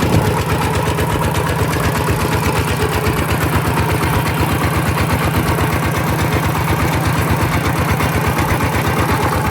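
A small single-cylinder walk-behind tractor engine idles close by, chugging in a fast, steady, regular thump with no voices.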